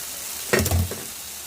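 A curry in a pan, simmering with a low, steady sizzle, gets a short scraping stir from a spoon midway, the louder scrape fading back into the hiss.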